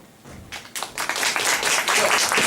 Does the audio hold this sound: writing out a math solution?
no